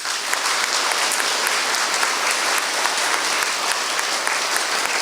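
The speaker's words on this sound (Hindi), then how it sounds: "चलिए जोर से और एक बार पूरी खुशी और आनंद के साथ ताली बजाए।" A church congregation claps loudly and joyfully together, a dense continuous wash of many hands applauding without pause for the whole stretch, with no voices rising above it.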